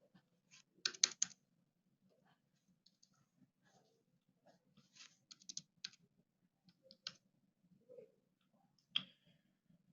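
Typing on a computer keyboard, quick bursts of light key clicks separated by pauses, close and fairly quiet in a still room.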